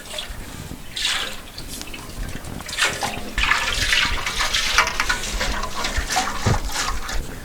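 Liquid tank-treatment coating sloshing inside a 1973 Moto Guzzi fuel tank that is being rolled around, a close, continuous watery swishing and gurgling that surges and shifts in waves, alone without talk.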